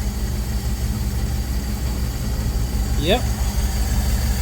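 A 1965 Dodge van's engine runs steadily in gear with a constant low rumble, close and loud, while a brief voice speaks over it.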